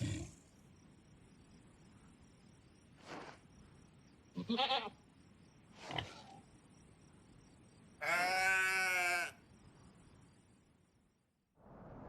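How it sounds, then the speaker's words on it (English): Sheep bleat in the morning on a farm, a few scattered short calls followed by one long wavering bleat, fairly close against quiet surroundings. "The sheep wake in the morning."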